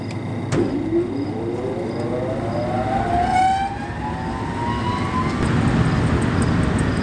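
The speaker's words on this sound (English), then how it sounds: "We're gonna kick the big blower on." A big blower spins up with a rising whine that climbs steadily in pitch over several seconds, preceded by a sharp click, with a loud roaring rush of air underneath.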